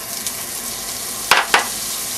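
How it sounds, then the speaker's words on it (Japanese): Butter sizzles in a preheated cast-iron Dutch oven with a steady, close frying hiss. Two quick utensil clinks against the pot sound just past the midpoint. "はい、じゃあまずプリヒートしたお鍋にバターを入れます。"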